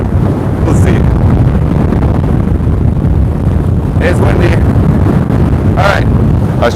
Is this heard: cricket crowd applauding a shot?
no